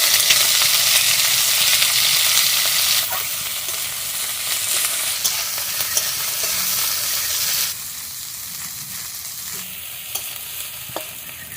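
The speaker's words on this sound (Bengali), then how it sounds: "একটু শুকনো লঙ্কা আর একটা তেজপাতা দিচ্ছি, একটু জিরে দিয়ে দিচ্ছি, পেঁয়াজ দিয়ে দিচ্ছি" Chicken pieces sizzle in hot oil in a village kitchen pan with dry chili, a bay leaf, cumin and onion, a loud steady hiss with occasional stirring scrapes; the frying drops to a lower level partway through.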